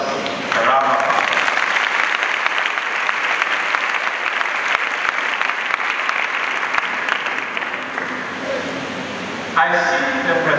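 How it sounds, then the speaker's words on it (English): An audience at a girls' senior high school speech and prize-giving day bursts into loud, sustained applause lasting about nine seconds, with a speaker's voice briefly heard just before it starts and again as it fades. "let's give ourselves a round of applause"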